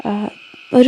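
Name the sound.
frogs croaking near a fish pond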